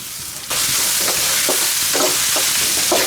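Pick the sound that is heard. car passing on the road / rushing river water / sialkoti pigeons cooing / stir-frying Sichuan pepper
stir-frying Sichuan pepper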